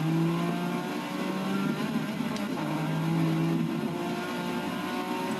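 A 1998 Porsche race car engine in the Forza 6 racing game holds a steady mid-pitched drone with slight rises and dips in revs, constant and fairly loud throughout.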